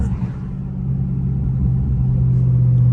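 A Dodge Charger Scat Pack driven in track mode gives a steady, deep engine rumble heard from inside the cabin. The drone builds slightly in loudness and holds a low, even tone throughout.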